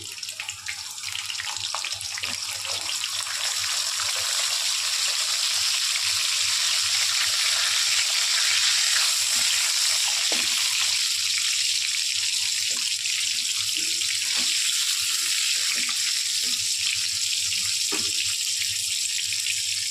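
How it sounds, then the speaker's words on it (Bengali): Carrots frying in oil in a pan, making a loud, steady hissing sizzle that runs throughout, with faint scattered ticks of stirring beneath it. "এবার গাজরগুলো অল্প করে ভেজে নেব।"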